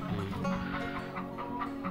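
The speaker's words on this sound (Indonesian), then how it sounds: "Ini ayam kedunya." Several Kedu chickens cluck and murmur close by in a steady, busy chorus, their low calls overlapping without pause.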